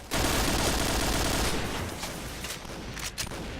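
Held-down automatic gunfire in the video game Point Blank, a dense, loud, continuous rattle of rapid shots that eases slightly in the second half, with a few sharper cracks near the end.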